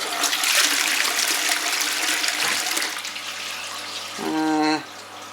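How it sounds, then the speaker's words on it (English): A toilet in a Scottish log cabin flushes with a loud rush of water that quickly fades to a trickle, ending in a brief rising refill tone. "Well, that doesn't exactly flush for very long"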